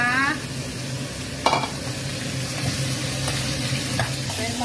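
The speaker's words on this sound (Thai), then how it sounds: "ผัดให้หอม ผัดให้เหลือง" Loud, continuous sizzling as spring onions are stir-fried in a hot pan, with a brief scrape of the utensil partway through.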